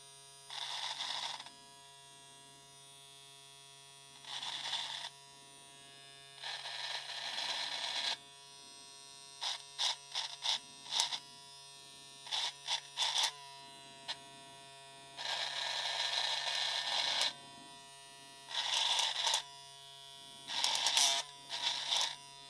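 A JRL Lamborghini Diamante brushless hair trimmer fitted with a Morono blade buzzes close up in repeated short bursts of high-pitched whirring, separated by pauses where a low electrical hum remains.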